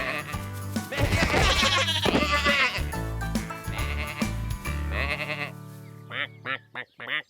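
Cartoon sheep bleat in a farm setting, a run of short, clear bleats near the end following busier music and sound beforehand.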